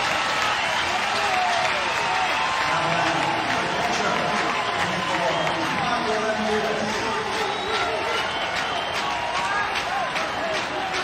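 Baseball crowd at an NCAA tournament game between Mississippi State and Miami cheering and applauding as fans rise to their feet: a loud, continuous roar of cheers and clapping from a large stadium crowd, sustained for about eleven seconds with a commentator's voice underneath.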